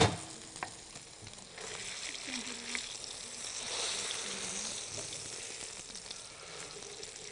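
Meat searing in hot oil with spices, a soft continuous sizzle and crackle that holds steady throughout at a low level with no talk.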